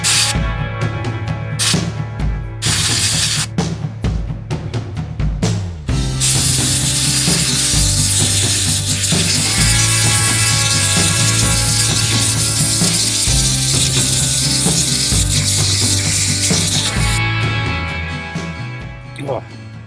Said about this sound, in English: luckily I do own a compressor. So first of all, I'm just going to clear all the dust out,